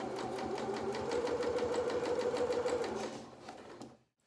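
Domestic sewing machine stitching a hem on a pinafore, a steady fast mechanical whirr with even needle clatter, close and loud, slowing and stopping near the end.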